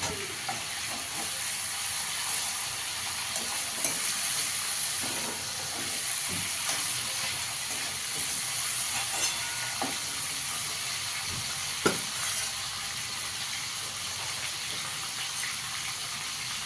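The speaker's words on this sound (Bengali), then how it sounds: "দেখুন আমার চিকেনটা ভাজা হয়ে গেছে না, আমি 3 মিনিট একটু ভেজে নিয়েছি" Chicken pieces crackle and hiss as they fry in hot oil, a steady close sizzle with occasional sharper pops and no voices.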